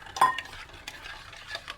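Khichdi being stirred in a home kitchen pot, with a spoon scraping and clinking against the metal in short, irregular strokes, one sharper knock near the start, close by and alone.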